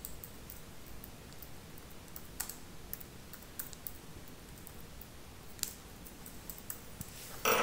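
Steady typing on a computer keyboard as a topic is entered into a web form, the keystrokes close and continuous, ending in a slightly louder clatter.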